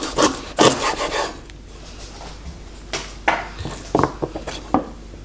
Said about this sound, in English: Another very important ingredient for tom yum is lemongrass for the flavor. I cut off the end.